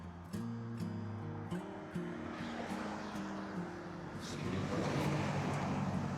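A truck passes on a road in Thailand or Malaysia, its low engine drone rising to a louder rush of tyre and road noise toward the end, heard from the roadside.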